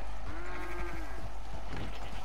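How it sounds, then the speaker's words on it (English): A sheep bleats in Red Dead Redemption 2 Online, one drawn-out wavering cry over a steady bed of game ambience with a busier burst of noise near the end. "Now moving on to the sheep"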